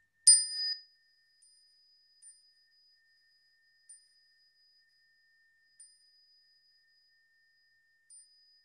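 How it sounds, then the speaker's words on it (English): A single meditation bell is struck once before bowing, ringing with a clear bright tone that fades into a long, faint decay with soft lingering resonances in an otherwise silent room. "I've got a bell."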